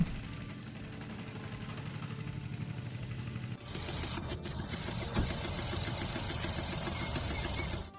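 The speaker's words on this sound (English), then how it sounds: "This Nissan Navara came in because of a noisy engine." Noisy idle from a Nissan Navara engine in a workshop, a steady mechanical rattle and clatter that shifts to a harsher, busier tone halfway through, loud and continuous with no voices.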